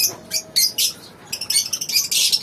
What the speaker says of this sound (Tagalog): Mga alaga kong lovebirds.